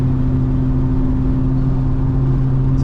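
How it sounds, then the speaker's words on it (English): Tuned Infiniti Q50 3.0t twin-turbo engine pulling hard through third gear on a night drive, a steady loud droning hum with strong low harmonics that holds level for a few seconds without a break. "I'm gonna do the third gear pull right now"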